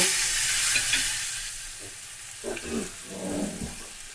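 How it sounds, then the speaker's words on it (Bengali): Mashed sweet pumpkin frying in a pan on high flame with a bright hiss at first, then softer sizzling broken by a few scraping stirs. "হাই ফ্লেমে করে দিয়ে ভাজা করে নেব সুন্দর করে ভাজা করব"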